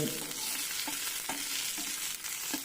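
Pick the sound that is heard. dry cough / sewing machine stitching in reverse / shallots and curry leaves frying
shallots and curry leaves frying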